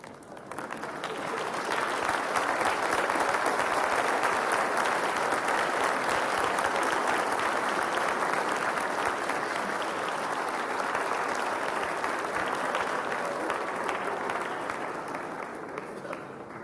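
A large audience applauds graduates at a culinary school spring commencement, dense continuous clapping that swells in the first seconds, holds steady and loud through the middle, then tapers slightly near the end.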